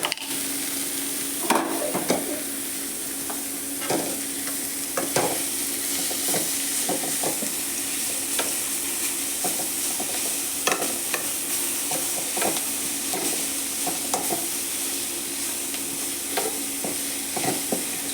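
Drumstick leaves stir-fry with onion in a pan, a steady sizzle punctuated by repeated scraping strokes of a spatula, close and alone without talk.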